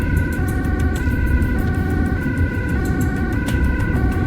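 An ambulance siren wails in a steady repeating two-tone pattern over the continuous rumble of rush-hour traffic in Amsterdam, loud and close throughout.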